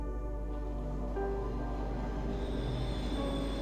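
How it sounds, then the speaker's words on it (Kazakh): Metro train in the video game Cry of Fear rumbling past with squealing wheels and steady low mechanical drone, sustained and fairly close with no voices. "Поезд или метро? Метро сейчас."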